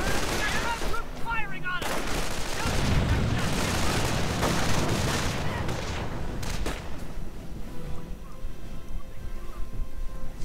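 Heavy, continuous gunfire from a WWII strategy game battle, with an armored car firing on a small assault force: dense rattling machine-gun bursts and booms packed together, loud throughout and thinning slightly toward the end.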